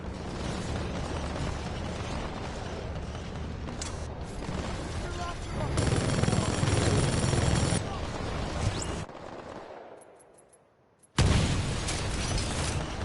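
Weapon fire and explosions in the video game Titanfall 2, a dense stretch of booming bursts and mechanical clatter with a sharp cutoff and renewed blasts, heard over ongoing game noise with a voice talking.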